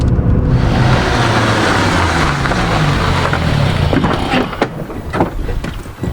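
A cheap Toyota Corolla drives uphill under heavy throttle, a dense, loud engine drone with wind rush filling the cabin, easing off toward the end with a few knocks and clicks.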